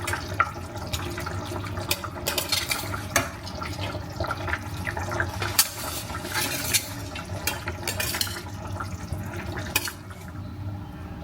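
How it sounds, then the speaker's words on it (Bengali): Pieces of salmon going into a boiling Bengali fish curry gravy, heard as a steady close bubbling and simmering with scattered soft splashes and crackles throughout. "এখন মাছ দিয়ে দেবো। ঝোলটা ফুটে গেছে ভালো করে।"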